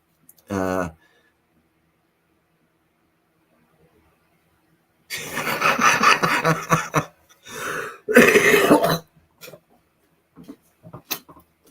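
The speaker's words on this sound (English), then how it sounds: "coughing stuff up" A few harsh coughs and throat-clearing bursts from a person with a cold break up near silence, close and loud, with short gaps between episodes.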